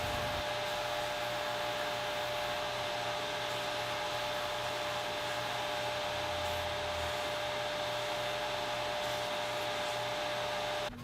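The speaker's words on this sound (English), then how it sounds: "we'll head over to the belt grinder," Continuous, steady whir of a belt grinder sanding the ends of a leather strap for a guitar strap, loud and close, running alone for the whole stretch with no talking.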